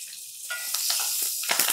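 Curry leaves and green chillies fry in hot oil, giving a steady bright sizzle with crackling pops that swell toward the end, close and alone.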